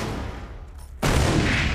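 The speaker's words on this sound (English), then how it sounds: "We're taking fire from what we believe is a Briggs tank!" Tank gunfire from the anime Fullmetal Alchemist: Brotherhood: after a quiet, muffled stretch, a sudden loud boom erupts and rumbles on with heavy, sustained noise to the end.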